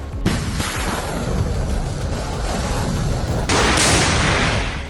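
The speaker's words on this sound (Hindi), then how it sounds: "rocket launcher," Indian Army rocket launchers fire during a military exercise in Arunachal Pradesh, with a loud, sustained rushing roar that starts abruptly, then surges louder with a second launch near the end.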